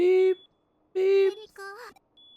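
Electronic beeps from a Digimon Story: Hacker's Memory cutscene: two long steady tones with a short warbling chirp between them, loud and clear with no talk over them.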